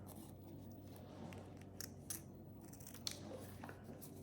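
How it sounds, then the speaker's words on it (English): Scissors cut through craft ribbon in a few crisp, close snips spaced out over a quiet background. "cut my ribbon"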